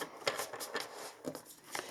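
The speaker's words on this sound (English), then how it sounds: "Let's just shuffle the cards a little bit." Tarot cards are shuffled in soft, quiet, brief papery flicks that repeat in a regular rhythm about twice a second.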